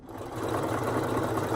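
A sewing machine runs steadily, stitching elastic down over a serged seam on fabric, a continuous close whirring hum without pause.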